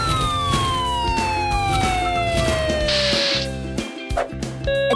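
Emergency siren from a Byloto educational toy for kids, a loud electronic wailing tone sliding downward in pitch with a rhythmic pulsing pattern underneath, close and continuous, briefly dropping out near the end.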